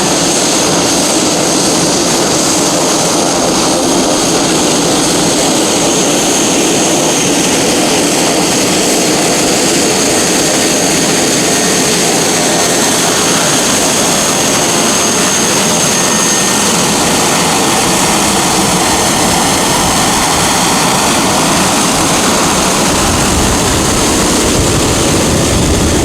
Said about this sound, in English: We got a plane crossing.